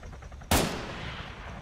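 A single sharp gunshot cracks out abruptly, loud against a quiet background, with a short reverberant tail fading over the following second.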